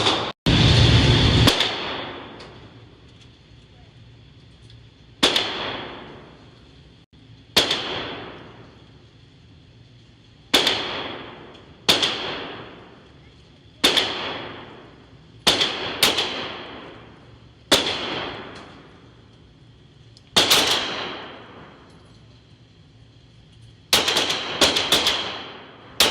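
AR rifle fired at an outdoor gun range, roughly a dozen sharp, loud single shots spaced a second or two apart, each followed by a ringing, decaying echo, with a quicker pair of shots near the end.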